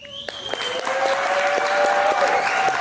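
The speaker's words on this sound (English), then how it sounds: "Yes, all 10 people clapped." A small audience applauding as a chef is welcomed on stage, a few people clapping steadily and close by, with a tone ringing through the claps.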